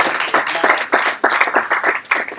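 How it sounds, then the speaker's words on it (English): Close, loud bursts of audience applause at a live cultural event in a London venue, brisk clapping over a few seconds. "Round of applause for Yuldosh, please."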